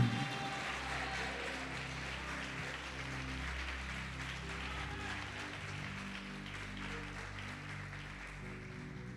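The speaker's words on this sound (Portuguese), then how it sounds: "Pode aplaudir o Senhor Jesus e glorificar" Congregation applauding during a Pentecostal church sermon, a steady dense wash of clapping that fills the whole stretch, with organ or keyboard tones sustained underneath.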